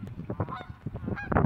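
Geese honking in a short burst of overlapping nasal calls, loud and close, several birds calling over one another in a lively flurry.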